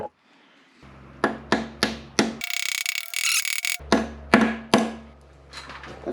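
Hammer blows drive out a pilot bushing on a rare sports car, a series of sharp metallic strikes in a steady rhythm that pause for a brief, noisy rasp before the strikes resume.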